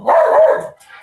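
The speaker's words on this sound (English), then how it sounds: "Dogs barking." Several dogs bark in a loud, close burst for under a second, with a fainter yip trailing after.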